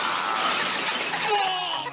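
A bright, crackling shatter of ice breaking apart, loud and close, with scattered fragments tinkling as it trails off.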